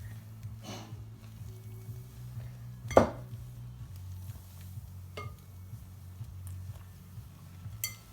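Soda cake mixture stirred in a bowl: soft scraping and intermittent clinks of a utensil against the bowl, one sharper knock partway through, quiet and close over a low background hum.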